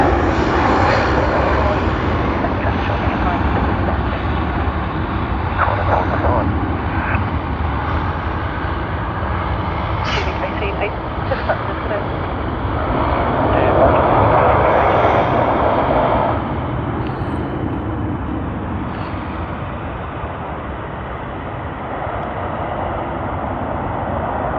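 Qantas jet airliner at Sydney Airport, a sustained engine roar that swells slightly midway and then eases, with a person talking over it at times.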